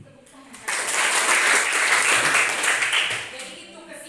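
A classroom audience claps together in a burst of applause that rises quickly, holds for about three seconds, then fades out.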